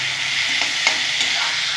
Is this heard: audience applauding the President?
no